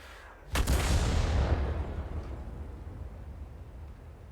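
Heavy shell fired from a T92 HMC self-propelled artillery piece in a tank battle game: one loud, sudden boom followed by a long rumbling decay, with no voices over it.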